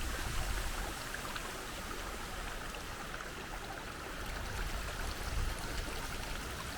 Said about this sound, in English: you find little streams running over the rocks